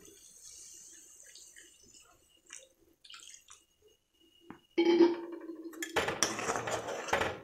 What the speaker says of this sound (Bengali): এবার আমরা এর মধ্যে জল দিয়ে দেব।